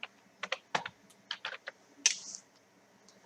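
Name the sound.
typing a folder name on a computer keyboard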